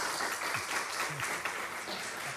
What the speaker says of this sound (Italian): E quindi direi applauso.